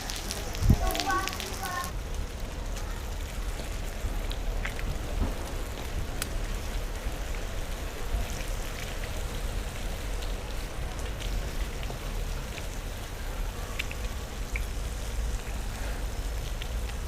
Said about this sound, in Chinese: 刚刚说到天气，说到下雨，结果就淋了一头雨啊！